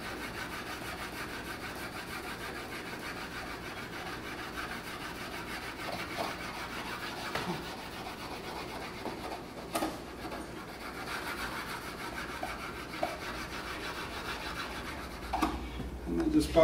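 Beeswax grain filler rubbed into wood along the grain, a soft continuous scratching and rubbing with irregular strokes and a few louder scuffs near the end, close up and without talk.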